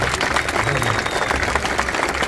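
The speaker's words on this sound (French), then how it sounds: "Vous nous applaudissez, vous avez été géniaux." An audience applauding at an outdoor festival animation in Mûr-de-Bretagne, steady close clapping with crowd murmur and voices mixed in.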